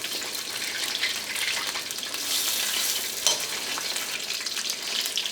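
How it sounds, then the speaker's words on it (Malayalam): Coated chicken pieces for Chicken Manchurian deep-fry in hot oil, giving a steady, dense crackling sizzle throughout with small pops and no talking. "നമുക്ക് ചിക്കൻ നമുക്ക് വറുത്തെടുക്കാം."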